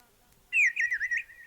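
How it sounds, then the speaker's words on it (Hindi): A bird near an ashram at early-morning brahma muhurta gives a bright, warbling chirp, loud and close, sounding alone for about a second after a quiet start. "यहीं समीप में आश्रम में देखो चिड़िया बोल रही हैं,"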